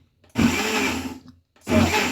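A kitchen blender whirs through ingredients for smoky Nigerian jollof rice in two short pulsed bursts, loud and close, with a brief pause between them.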